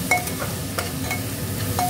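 Onions frying in a pan for mutton curry make a constant close sizzle, broken by a few light stirring scrapes and faint metallic ticks.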